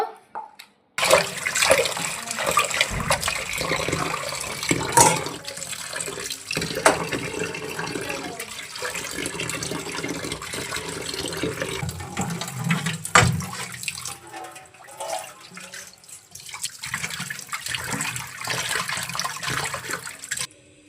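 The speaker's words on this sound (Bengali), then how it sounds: "সবগুলো মাছ কাটা হয়ে গেছে, এখন ধুয়ে নেব।" Running tap water splashes steadily over freshly cut koi fish being washed in a Bengali home kitchen, a continuous close rush of water with brief pauses and shifting splashes, no talking.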